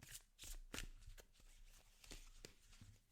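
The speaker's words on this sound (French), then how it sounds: "on recommence le battage des cartes" A deck of cards is shuffled and reshuffled after some fell, giving several quick riffling bursts with brief pauses between them, close and clear with no talk.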